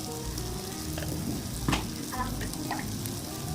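Onions fry in a pan until light brown for egg biryani, giving a steady, moderate sizzle with occasional spatula scrapes against the pan.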